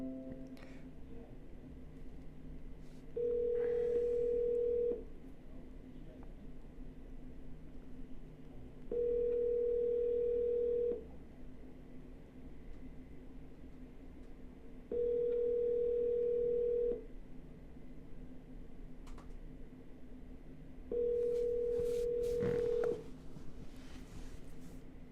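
An outgoing phone call ringing a buyer's number, with four steady ringback tones about two seconds long and spaced about six seconds apart over a low hum, with no voices.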